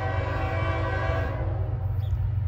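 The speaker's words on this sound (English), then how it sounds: "Oh god, got a southbound CSX coming. Looks like an intermodal." A southbound CSX intermodal freight train on the old B&O line sounds a sustained, loud multi-tone horn blast that cuts off partway, leaving the low rumble of the passing train underneath.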